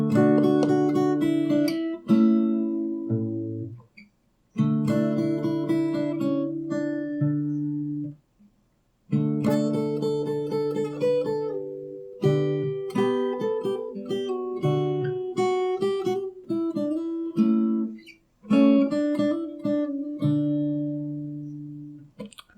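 Fingerstyle acoustic guitar playing the chorus of a song from Barfi, with picked chords ringing in phrases separated by short pauses, close and clear, with no voice.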